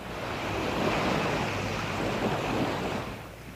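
Waves roll onto the shore of Lake Erie, a steady, full rush of surf with a gentle swell and fade, loud and close, with wind-like hiss and no voices.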